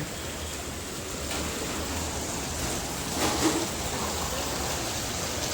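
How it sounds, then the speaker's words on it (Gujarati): Heavy rain pours down in the early evening, a steady broadband hiss that holds constant throughout, with no voices. "આપ જોઈ રહ્યા છો ફૂલ વરસાદ ચાલુ છે"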